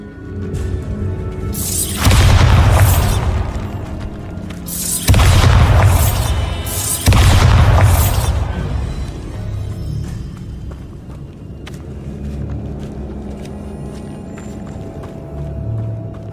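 Three loud Bombarda explosion spells in Hogwarts Legacy, each a heavy booming blast with a crackling tail, close together, followed by a quieter rumbling stretch.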